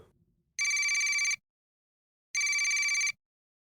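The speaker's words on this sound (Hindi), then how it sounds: "मेरे दुकान वाले मोबाइल पर किडनैपर का कॉल आया" A shop's mobile phone rings with an incoming call: two identical electronic ring bursts, each under a second long, loud and close, separated by a gap of near silence.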